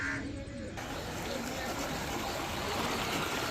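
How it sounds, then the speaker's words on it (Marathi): Overflow water from Siddheshwar lake flowing through a moat garden, a soft, continuous rushing and trickling at moderate distance with faint birdsong above it. "सिद्धेश्वर तलावातील ओव्हरफ्लो झालेलं पाणी या सिद्धेश्वर तलावातून खंदक बागेतून पुढे जात आहे"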